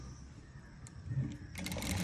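A sewing machine stitches a folded frock hem, starting faintly and picking up into a quiet, rapid stitching run in the last half second.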